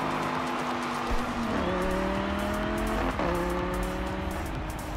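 Racing car engine in the game Forza Horizon 2, a loud sustained whine climbing through gears with two clear upshift drops, steady and close throughout.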